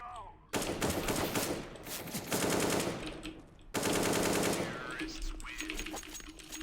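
Rapid automatic gunfire bursts in a PvP video game match, two long loud volleys of machine-gun fire with short gaps, while a player talks quietly in between.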